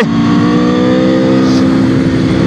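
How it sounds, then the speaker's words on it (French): A 2021 Aprilia RSV4 Factory sport motorcycle ridden on the Misano circuit, its engine held at a loud, steady high-rpm roar with a strong tonal drone, heard close up and continuously with wind rush and no voices. "au guidon de la nouvelle Aprilia RSV4 Factory"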